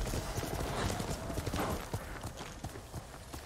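Horse hooves clip-clopping at a steady trot in the Ghost of Tsushima video game, a continuous rhythmic beat of hooffalls with faint background game ambience.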